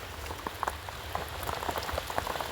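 Steady rain falling outside on a cold day, a dense patter of drops on surfaces with scattered sharper taps, moderately loud and continuous with no voices.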